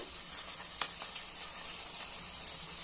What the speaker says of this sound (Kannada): ಖಾರಕ್ಕೆ ಎಷ್ಟು ಬೇಕೋ ಅಷ್ಟು ಹಸಿಮೆಣಸಿನಕಾಯಿ ಸ್ವಲ್ಪ ಫ್ರೈ ಮಾಡ್ಕೊಳ್ಳೋಣ